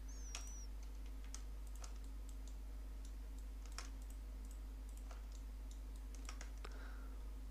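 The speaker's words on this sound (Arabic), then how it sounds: "ندوس من الكيبورد كنترول وكليك يمين" Computer keyboard keys are pressed in scattered, quiet clicks at an uneven pace, with a low steady electrical hum underneath and a faint mouse click or two.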